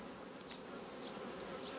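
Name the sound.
honeybees buzzing at the hive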